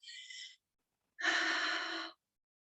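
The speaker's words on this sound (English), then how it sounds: "let's go ahead and take a nice deep breath" A nice deep breath taken in a quiet room: a short airy inhale, a pause, then a longer, louder exhale, close by with no talking.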